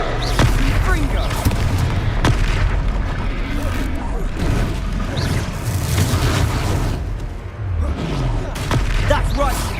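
Confringo blasting spell explosions in Hogwarts Legacy combat, several sharp booms punching through a dense, continuous bed of game noise, with voices speaking over the fighting.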